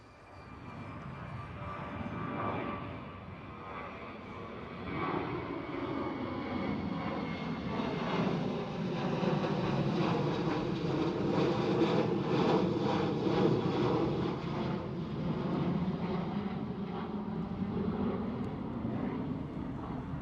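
A Transavia Boeing 737 jet airliner at Amsterdam Schiphol roars steadily for about twenty seconds, swelling louder toward the middle and holding a broad, even engine rumble.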